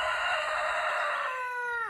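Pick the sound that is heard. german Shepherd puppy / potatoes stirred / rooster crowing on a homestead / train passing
rooster crowing on a homestead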